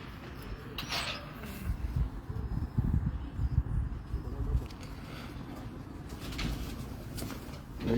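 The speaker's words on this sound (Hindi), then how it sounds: "ये भी मेरे बहुत अच्छे कबूतर है।" Pigeons coo softly in a steady low murmur, with occasional rustling and creaking nearby; no one speaks.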